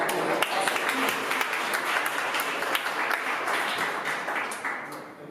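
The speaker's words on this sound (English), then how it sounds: "So give him an extra applause for that." An audience at a conference talk on AI safety and ethics applauds a speaker: continuous crisp clapping with scattered sharper claps, tapering off toward the end.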